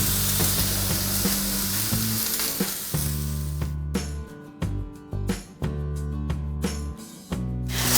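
Vegetables and meat fry on a ribbed grill pan, a loud, close sizzle broken by a series of short rattling clatters as the pieces are stirred and turned.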